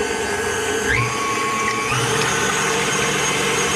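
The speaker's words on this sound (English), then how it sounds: "I am going to go ahead and make my egg whites into stiff peaks" An electric mixer whips egg whites into stiff peaks with a loud, steady whirring drone that shifts pitch briefly once or twice, without any talking.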